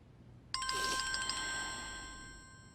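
A telephone rings indoors in a domestic drama scene, a bright electronic ringtone with repeated tonal pulses starting abruptly and sustaining clearly for about two seconds before fading slightly, with no talk over it.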